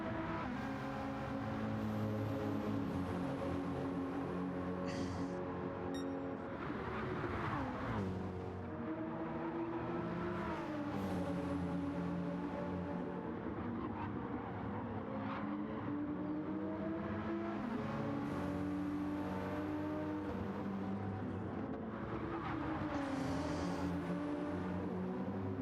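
GR3 race cars lap the Brands Hatch circuit in Gran Turismo, engines droning continuously and loudly. Pitch climbs and drops through gear changes, and other cars blend into the steady roar.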